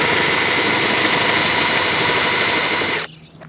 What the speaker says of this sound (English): We've got an electric screwdriver